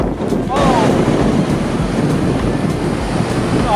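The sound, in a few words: ocean waves at a beach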